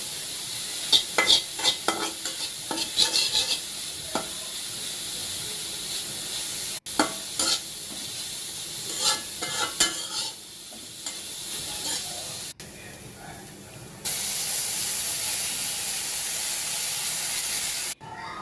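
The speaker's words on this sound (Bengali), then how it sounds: "এখানে গ্রেট করা গাজরগুলো ছেড়ে দিয়ে একটুখানি ভেজে নেব" Grated carrots for carrot halwa fry in a pan while being stirred, giving rhythmic scraping and clattering spoon strokes over a soft sizzle, which gives way to a steady, louder hiss toward the end.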